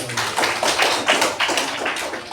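Students in a religious studies class clap their hands together, a dense, steady patter of many claps that holds evenly from start to finish, close and moderately loud with no talking over it.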